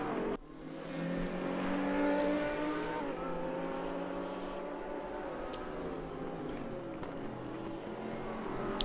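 GT3 race cars lapping Mount Panorama at Bathurst in a racing video game, a steady, fairly quiet engine drone with shifting revs that holds throughout at moderate distance.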